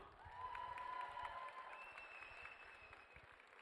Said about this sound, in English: Ladies and gentlemen, round of applause for both fighters.